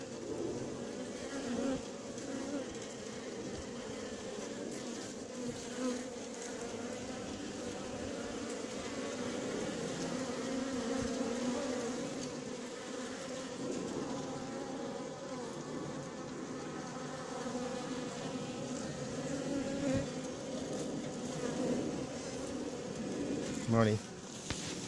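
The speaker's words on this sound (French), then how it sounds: "C'est de la folie toutes ces abeilles." A swarm of honeybees crowds onto sugar set out as feed, making a dense, steady buzz that fills the whole stretch without pause, close and even in loudness.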